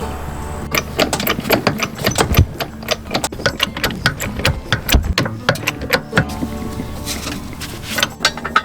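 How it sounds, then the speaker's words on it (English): Lug nuts on a travel trailer wheel being broken loose with a tool during a suspension upgrade, giving a busy run of sharp metallic clicks and clanks over a steady low machine hum, close and fairly loud throughout. "before I take the weight off the tires, I'm going to just break free the lug nuts"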